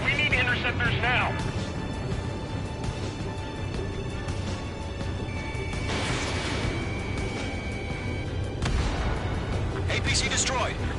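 An APC blowing up during a combat mission in the Ace Combat 7 flight game, a dense roar of explosions and rumbling blasts under constant battle noise, with radio voices talking throughout.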